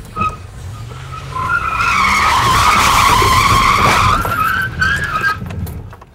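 Race car tires skid under hard braking, a loud rising squeal that swells and holds for several seconds over engine noise, then fades out, close by.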